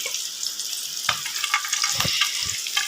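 Onions fry to a light golden colour in a pan, giving a steady close sizzle with scattered crackles and a few soft scrapes as they are stirred.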